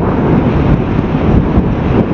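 Strong roadside wind near windmills along highway NH-44 buffets the microphone in a loud, continuous low roar with gusty surges and no voices.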